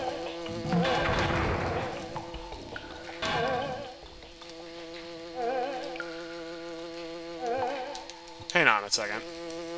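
The red Buzzer enemy in Donkey Kong Country 3 on the GBA, played in hard mode, gives off a steady insect-like droning hum that swells and fades over the game's background sounds, with a sharp game effect near the end.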